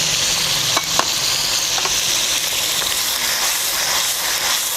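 Chopped onion dropped into hot oil for chole masala, a loud, bright, steady sizzle and hiss with a couple of faint clicks early on, close and unbroken, no talking.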